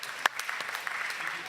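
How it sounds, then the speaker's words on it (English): Brief, faint audience applause for Joe Leinen at a political climate debate, dense patter of clapping with a sharp accent near the start, set back and quiet. "we can give him a round of applause"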